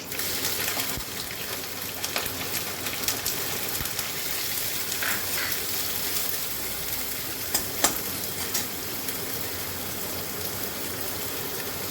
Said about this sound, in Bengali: গোটা গরম মশলা ফোড়ন করলাম, এবার আমি পেঁয়াজ কুচিগুলো দিলাম।